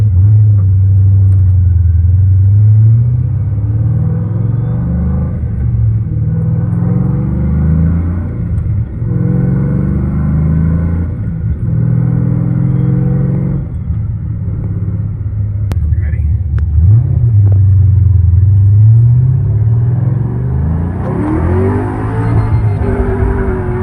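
Loud close rumble of a Pontiac GTO engine idling roughly in the cabin, the pitch wavering and surging as the throttle is blipped to keep it running, with brief talk over it.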